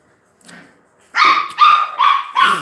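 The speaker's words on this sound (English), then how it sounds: "So puppies, they're having fun in the background." Puppies at play give four loud, evenly spaced yipping barks close by, after a brief softer sound.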